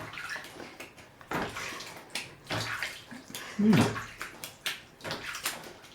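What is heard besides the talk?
washing face with water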